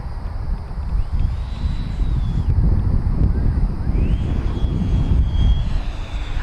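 An E-flite F-16 70mm electric ducted-fan RC jet flies past outdoors, its steady whooshing fan whine rising and falling in pitch over constant wind noise, fairly loud and continuous.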